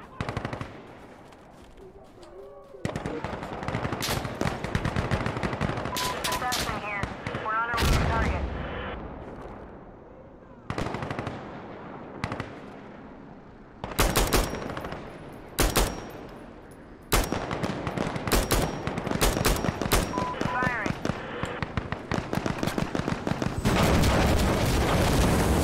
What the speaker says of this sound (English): Send the gunship to this area now!